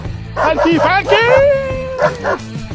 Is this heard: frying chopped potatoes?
no